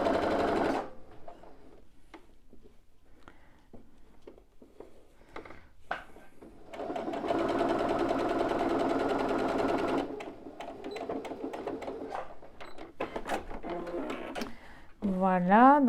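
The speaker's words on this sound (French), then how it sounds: "je vais faire juste une petite couture sur le haut pour maintenir mon tissu éponge" Domestic sewing machine stitching terry cloth along the top band of a Christmas stocking, a close whirring run of needle strokes that stops and restarts, with handling clicks and fabric rustle between bursts.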